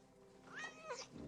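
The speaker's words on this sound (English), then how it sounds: "Glad the kitty made it out all right" A single drawn-out cat meow from the film Alien, rising then falling, faint and fairly close against a quiet background.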